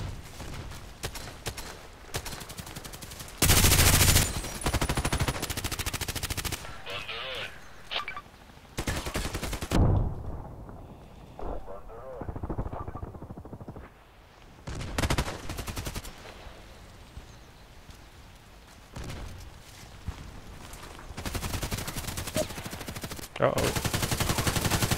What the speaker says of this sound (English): So I'm the only one who's using machine gun over here